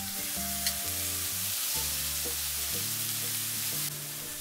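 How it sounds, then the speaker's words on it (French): Thick beef slices searing in a pan preheated on high heat for a steady, close hiss and sizzle, with low thuds and scraping from the pan being handled underneath. "Je les fais griller dans une poêle, préalablement chauffée à feu fort pendant 1 minute par face"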